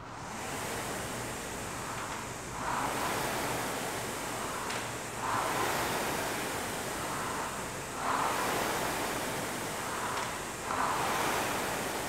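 An indoor rowing machine pulled powerfully at a low stroke rate makes a steady rushing whoosh, rising in broad surges roughly every two and a half seconds, close up with no talking.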